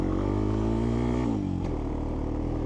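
A 2026 Honda TRX250X ATV engine while riding, heard up close as a continuous buzzing drone that drops in pitch partway through and then settles at a steady lower tone.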